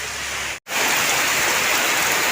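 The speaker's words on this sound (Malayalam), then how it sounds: "മഴ നല്ല ശക്തിയിൽ പെയ്യുന്നുണ്ട്." Heavy rain pours down during a stormy orange-alert Sunday, a dense, steady roaring hiss close by with one brief dropout near the start and no voices.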